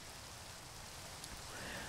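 Steady rain falls in the video game Minecraft, a soft continuous hiss that stays even and moderate throughout without any voices.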